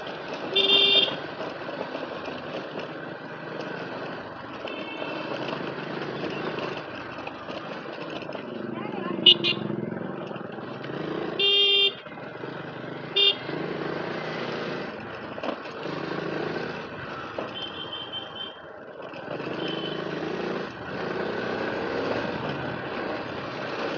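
A low-cc motorcycle rides through traffic, its engine droning steadily, with wind rush and occasional horn toots from nearby vehicles and a voice talking over the ride.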